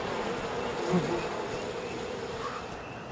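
Bees buzzing in the We Happy Few video game, a dense, constant hum close by that holds steady throughout with no talking over it.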